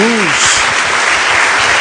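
A church congregation applauds together in steady broadband clapping that fills the room, with a short vocal exclamation at the start under the sound.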